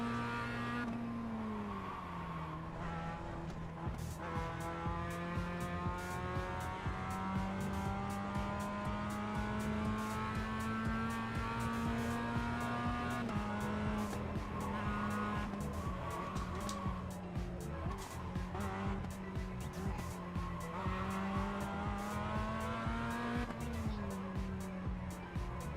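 A race car engine revs hard and continuously in the iRacing simulator, its pitch climbing and dropping through gear changes with a steady loud drone and faint tire noise throughout.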